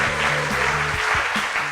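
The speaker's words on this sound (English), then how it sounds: "And a round of applause for our moderator" A live investor summit crowd applauds the panel moderator in a brief burst of clapping, with a low tonal hum and some indistinct voices running underneath.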